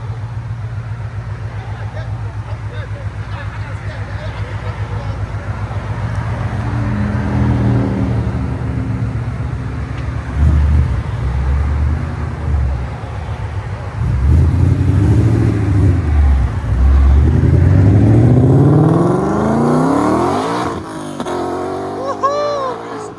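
Supercharged Roush GT Mustang with its valved mufflers closed, engine rumbling low and steady before climbing through several rising revs, with talk heard over parts of it.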